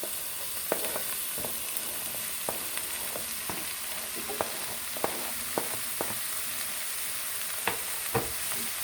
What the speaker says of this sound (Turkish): Biraz da bu şekilde kavuralım.